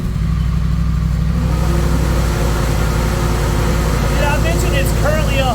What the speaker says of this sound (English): do the first dyno pull in 5th gear